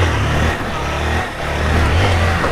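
A motorcycle engine revs loudly and close during wheelie practice, holding a rough, steady growl that dips briefly and then climbs again.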